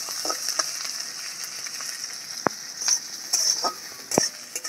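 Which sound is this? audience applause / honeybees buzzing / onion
onion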